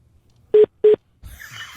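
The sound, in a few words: telephone dialing tones when calling back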